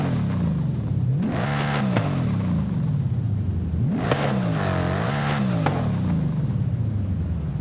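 A 1900-horsepower 2024 Ford Mustang in the video game Forza Horizon 5 revs hard twice, each burst climbing then dropping back, over a constant close engine rumble.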